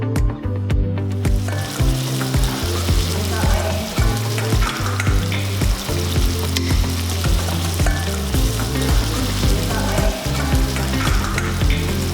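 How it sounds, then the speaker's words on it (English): Meat sizzles and crackles in hot oil in a frying pan with garlic and fish sauce added, a constant frying hiss with stirring, while bass-heavy music plays underneath. "the students heat oil in their frying pan and they add garlic and the fish sauce to the meat"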